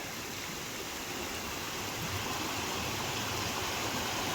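Steady broadband rush of flowing water, constant and fairly loud throughout, like a nearby stream with no breaks or voices.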